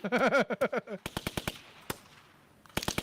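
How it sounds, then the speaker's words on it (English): A rapid run of sharp gunshots fired in a rhythmic burst as a music beat, then scattered single shots with a short echoing tail, and a final quick cluster. "This the hardest beat anybody's ever heard. It's made out of gunshots. Gunshots are the beat."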